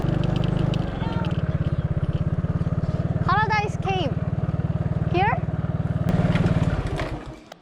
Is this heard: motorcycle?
yes